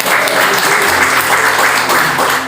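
Church congregation applauding loudly and steadily, a dense close wash of many hands clapping at once, sustained without pause for the whole stretch.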